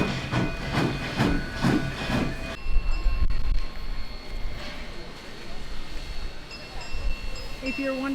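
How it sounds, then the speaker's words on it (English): Train arriving in a Colorado mountain town with rumbling wheels, hissing air and steady tonal whine, moderately distant, with some talking over the noise. "Watching the 3rd train of the day come in."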